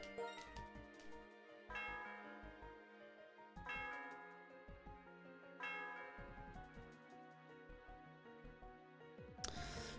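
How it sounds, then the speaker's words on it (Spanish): Chiming bell tones ring out in the Pokémon Black 2 video game, several bright struck notes recurring every couple of seconds over a soft looping musical backdrop, with a sharper chime at the end. "El sonido de la campana resuena por todo el lugar."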